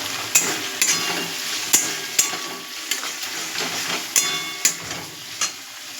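Spice masala frying in oil in a pan while being stirred for a curry of bori, potato and gathi, with a steady close sizzle and sharp scraping taps of the spoon at an uneven rhythm.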